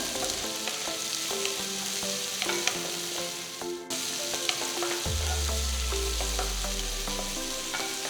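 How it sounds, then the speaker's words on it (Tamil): Finely chopped onions sizzle steadily in a hot pan, with a few stirring clinks and a deeper hiss swelling up near the end. "வெங்காயம் கொஞ்சம் வதங்கட்டும்"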